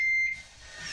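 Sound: beeps from a Yale Conexis L1 smart lock

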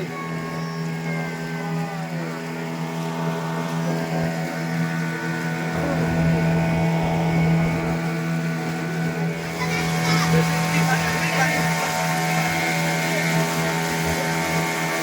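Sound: motorboat passing behind at sea, Puducherry

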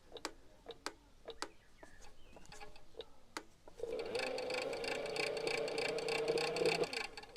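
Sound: electric scooter motor running then cutting out

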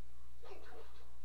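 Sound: dog whimpering in the video game Pikmin 4

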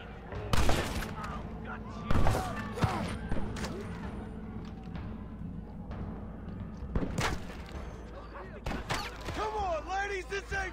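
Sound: gunfire in Red Dead Redemption video game

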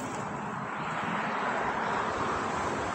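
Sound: car driving off the interchange

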